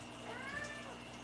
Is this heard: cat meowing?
yes